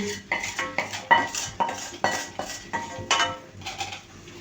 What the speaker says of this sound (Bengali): তো ফ্রাই প্যানের যে মাছগুলো ছিল সেগুলো আমি ঢেলে দিচ্ছি